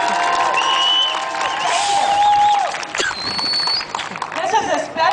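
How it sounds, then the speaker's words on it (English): A crowd at an immigrants rights rally in Oakland bursts into applause and cheering, heard at a distance. Whistles and voices rise over the clapping, and it thins out toward the end. "please give a big round of applause to leaders like Jean Kwan, Vice Mayor for the City of Oakland"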